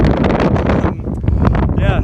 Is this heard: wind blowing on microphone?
yes